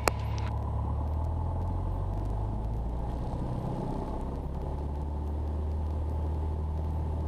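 Cessna 172 engine at takeoff power, a steady loud droning roar heard from inside the cockpit, unbroken for several seconds with no talking.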